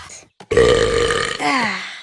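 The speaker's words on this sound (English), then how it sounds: "That was my celebration burp." A cartoon girl lets out one long, loud, close burp that rises and wavers before trailing off into a second throaty tail.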